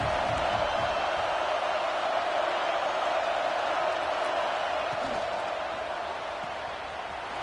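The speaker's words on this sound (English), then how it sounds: "The high crowd rolling noise down on the Saban field on third down." Football stadium crowd on third down at a college game, a loud, sustained rolling roar of many distant voices filling the space and easing slightly toward the end.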